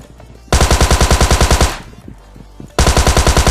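PUBG Mobile gunfire: a loud, close burst of rapid automatic shots that tails off, a short lull, then another burst starting near the end.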